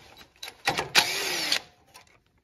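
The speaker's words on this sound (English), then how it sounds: "Use a 10 millimeter socket to remove this bolt right here." A 10 mm socket wrench works a bolt on the front brake of a 2003-2009 Lexus GX460, giving a close ratcheting and rasping burst of about a second, with a few fainter clicks and taps before and after.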